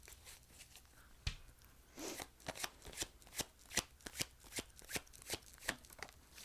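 A deck of tarot cards is shuffled by hand, giving a run of sharp, papery snaps and flicks in an uneven rhythm, close and fairly quiet, with no talk.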